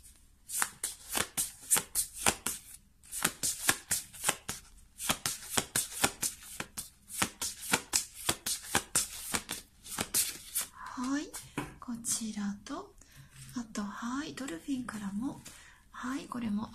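Oracle cards are shuffled in quick, rhythmic riffling bursts close up, later continuing beneath a person talking.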